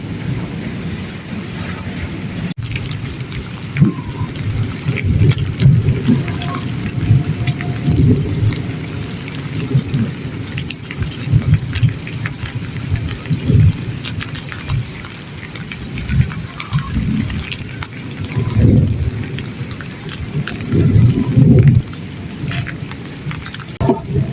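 Steady rain and rumbling thunder fall over a village mud house in Punjab, with a constant close patter and deep rolls swelling and fading throughout.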